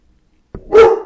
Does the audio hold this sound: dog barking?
yes